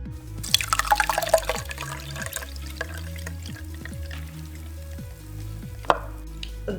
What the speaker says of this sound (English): I will strain my mixture into this water.